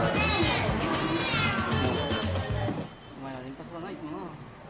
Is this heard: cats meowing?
yes